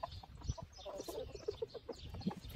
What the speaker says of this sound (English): So the chickens are molting right now.